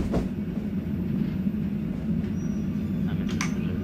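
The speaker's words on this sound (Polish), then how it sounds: "Mamy też, że pociąg już się rozpędza" An EN57 electric multiple unit gathers speed in the MaSzyna train simulator, a steady low rumble and hum of motors and running gear with faint rail clatter, continuous and fairly close.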